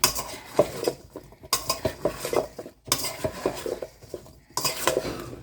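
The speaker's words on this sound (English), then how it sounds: "you're going to give this a toss just to get the seasoning and the olive oil coating all the pieces" Potato cubes tossed with seasoning and olive oil in a bowl, producing repeated close scraping and clattering bursts of utensil against dish, separated by brief pauses; no voices.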